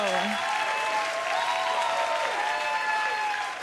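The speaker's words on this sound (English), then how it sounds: "I get applause." A comedy club audience at a stand-up show breaks into sustained applause, a dense steady wash of clapping that stays loud throughout with a few voices mixed in.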